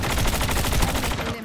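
Rapid gunfire in a video game shooter cracks out as a dense, loud volley of closely spaced shots, ending abruptly after about a second.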